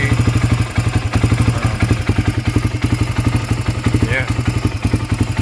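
A 1997 Honda TRX 300EX ATV engine runs steadily just after a cold start, with a loud, close, rhythmic low pulsing and some mechanical clatter throughout.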